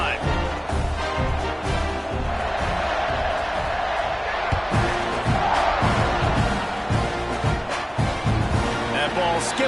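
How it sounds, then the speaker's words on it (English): A stadium crowd in the NCAA 26 college football video game roars steadily throughout, a dense sustained wash of cheering and shouts with scattered thumps and whoops. "this crowd is feeling themselves after that last drive"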